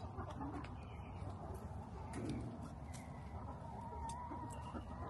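Chickens clucking in a backyard coop with hens that have just laid eggs, a continuous busy murmur of fowl calls with occasional sharper squawks over steady low background noise, no clear talk.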